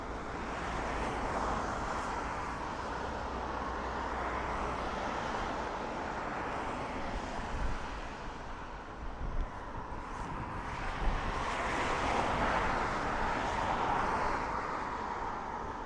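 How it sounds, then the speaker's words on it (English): ATR turboprop arriving from Glasgow at Dublin Airport, a faint, distant broad engine drone that swells gently toward the end amid outdoor wind and ambient noise. "an ATR coming in from Glasgow"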